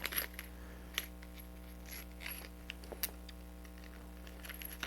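M3 by 25 metal screws are handled in a small batch, giving faint, scattered light clicks and clinks at irregular moments over a quiet room hum.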